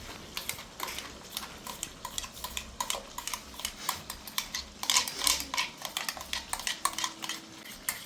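Dried red chili paste being stirred in a pan (kalai), with repeated scraping and clinking of a spoon against metal in an uneven rhythm, close and moderately loud, with no talking.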